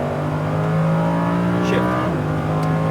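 A Lamborghini Huracan engine accelerates on a race track, a loud, sustained roar held close and steady with a brief rising whine, while a voice speaks over it.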